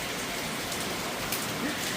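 Rain falling as a steady, close, continuous patter and hiss, with no break in it.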